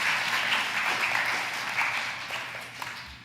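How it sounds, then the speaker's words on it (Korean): Congregation applauding in a church service, a dense steady wash of many hands clapping that fills the room, easing slightly toward the end. "박수"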